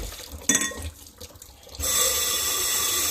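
Fontop glass rinser sprays water into a baby bottle, with a short splashy burst and dripping before a steady, loud, pressurized hiss of spraying water that runs to the end, close and with no talking.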